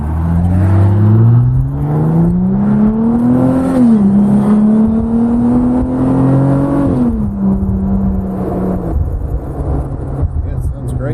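A 2020 Jeep Gladiator Rubicon with its muffler deleted revs loudly up and down, the raw exhaust drone rising, holding, then dropping back to idle, heard close from inside with the windows down.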